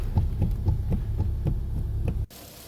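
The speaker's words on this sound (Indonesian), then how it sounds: "dengar nggak teman-teman, bunyi jekluk jekluk jekluk parah banget, itu harus segera diurus" A clunking knock from underneath a Ford car, a steady low hum punctuated by regular rhythmic thumps about three per second, loud and close, cutting off abruptly near the end.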